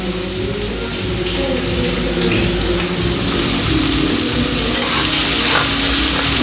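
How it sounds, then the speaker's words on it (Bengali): Chopped ginger and garlic fry in hot oil in a pan, a steady loud sizzle with scraping stirs running throughout. "এখন আদা রসুনটা ভালো করে ফ্রাই করে আনি"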